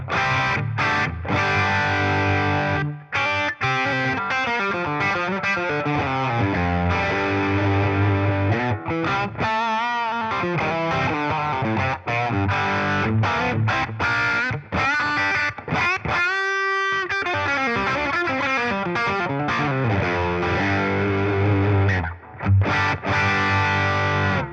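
A distorted electric guitar plays busy riffs and chords through an ODR1 overdrive stacked with a Prestige pedal, producing a thick, steady driven tone with brief pauses between phrases.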